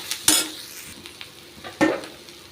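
Turkey berries sautéing in a pan with turmeric and curry leaves: a low sizzle broken by two sharp spatula scrapes, close by, with no voices.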